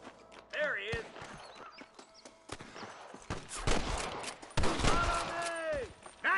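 Gunfire crackles in the Red Dead Redemption 2 video game, with sharp shots and bursts spread across the scene amid horse hooves, game noise and voices.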